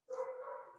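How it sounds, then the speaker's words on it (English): A single short dog bark or yip, faint and distant, heard alone against silence. "let me warn you that there are a lot of dogs around me"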